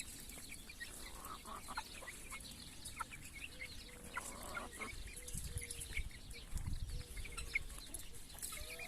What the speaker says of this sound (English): Little fat chicks.